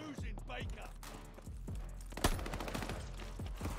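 Rapid automatic gunfire in Call of Duty Vanguard during a ranked Control match, with crisp repeated shots in bursts, one sharper crack midway, heard under a talking voice.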